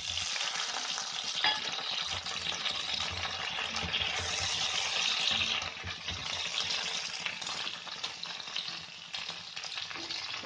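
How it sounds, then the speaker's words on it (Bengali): Potatoes and small tomatoes fry in a pan for matar paneer, giving a steady bright sizzle with occasional stirring scrapes throughout and no talk. "আলুটা বেশ কষা হয়ে যাচ্ছে ভাজা ভাজা মতন"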